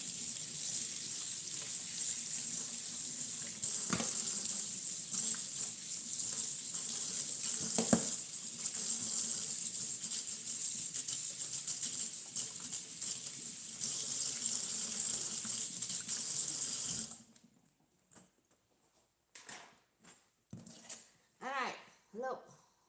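Hot water runs steadily from a kitchen sink tap in a strong, even hiss and splash for most of the stretch, then cuts off, leaving a few faint drips and handling clatters.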